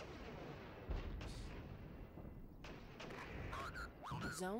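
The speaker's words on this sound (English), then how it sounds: "So let's immediately call in guided weapon strike" A guided weapon strike lands on T-72 tanks in Regiments, a Cold War era real-time tactics game: a sustained barrage of booming, crackling blasts, with rising whistling tones near the end.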